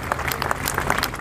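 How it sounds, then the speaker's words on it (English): Street crowd applauding and cheering in honor of Queen Elizabeth after a minute of silence in the United Kingdom, a brief, dense wash of clapping with scattered shouts at steady, moderate loudness. "1 minute of silence in honor of the Queen, followed by applause and cheers in the streets."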